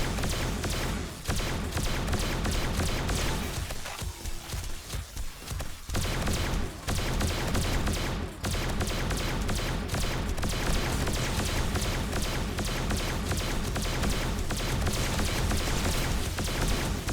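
Rapid, dense gunfire from a carbine in the zombie survival game 7 Days to Die with the Darkness Falls mod, sustained and loud through most of the stretch with only brief pauses between bursts.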